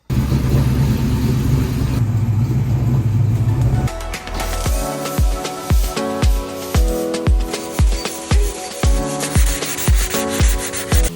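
Sanding a drift car's body panel by hand at home with 240 grit sandpaper: a steady rubbing stretch, then a rhythmic run of rapid back-and-forth strokes, close and clear.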